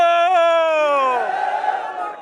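At a PPP rally in Nagar, one strong voice calls out a long drawn slogan, and the gathered crowd answers with a loud, ragged massed shout that trails off.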